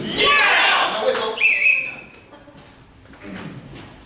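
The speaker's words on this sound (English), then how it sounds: "Now whistle." A whistle blown to open an improv comedy scene gives one short, clear tone that follows a burst of lively voices and room noise, with quieter chatter after it.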